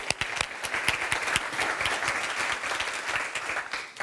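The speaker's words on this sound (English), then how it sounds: "Yeah, big applause for them." A summit audience claps in a steady round of applause, with sharp individual claps standing out near the front of the room against a broader crowd wash.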